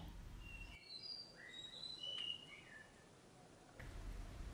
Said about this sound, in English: The whistling thrush started singing.